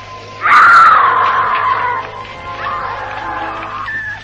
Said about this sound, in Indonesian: tiba-tiba dari kejauhan terdengar teriakan seorang wanita